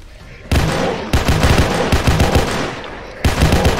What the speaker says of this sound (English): Wait, did I turn on the burst fire on my Glock?